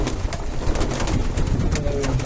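Several pigeons coo nearby in soft, overlapping throaty murmurs, with faint rustling and clicks in the background.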